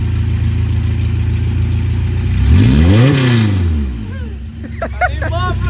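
A loud car engine with only a header and no exhaust revs up sharply and drops back down with a raw, unmuffled roar, then settles to a rough idle.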